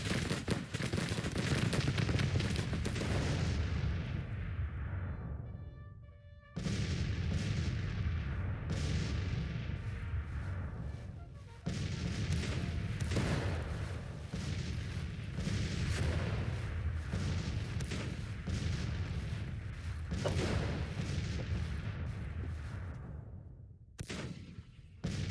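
Artillery fire in the Civil War strategy game Grand Tactician, a dense continuous barrage of booms and crackling volleys over a rumbling battlefield din, with a brief lull partway through.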